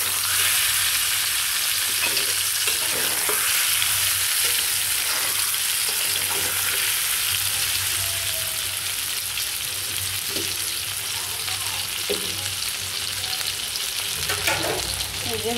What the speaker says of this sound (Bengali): তো এটার মধ্যে এখন বেগুনটা দিয়ে দিলাম